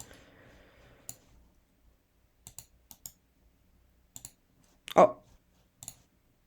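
Sparse, sharp mouse clicks come one or two at a time at irregular intervals, close and crisp, with a brief murmur of voice at the start.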